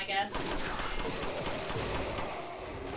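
Rapid pistol fire in the Resident Evil 4 video game, a dense burst of quick shots running steadily for the whole stretch, loud and close.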